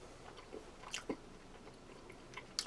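Close, quiet chewing of a Halloween zombie ration, with soft wet bites and a few sharper crunchy clicks spread irregularly over a few seconds, no talk.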